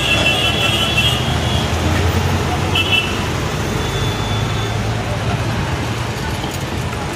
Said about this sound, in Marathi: ट्रॅफिक कमी झाली जरा आता.